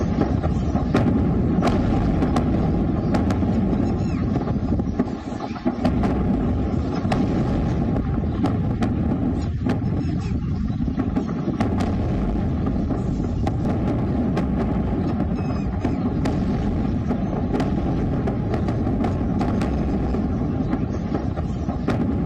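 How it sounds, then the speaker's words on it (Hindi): A series of explosions at a military base in Sialkot, Pakistan: heavy booming blasts and sharp cracks follow one another over a dense, loud, continuous rumble. "एक के बाद एक कितने धमाके हुए ये देखिए जरा।"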